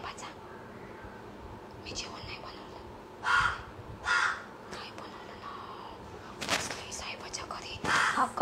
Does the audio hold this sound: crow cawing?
yes